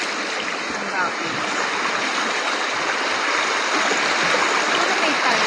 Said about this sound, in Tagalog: Ang rapid.